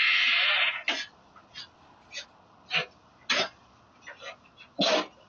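Sneezes from several different people, a long loud burst at the start followed by a series of short, sharp sneezes spaced about a second apart at moderate loudness.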